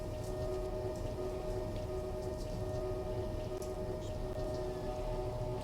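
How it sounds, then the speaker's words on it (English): Steady rain hisses evenly in the Silent Hunter III submarine video game, a continuous wash of patter with a low tonal hum underneath and no voices. "just rain and yeah, rain and clouds"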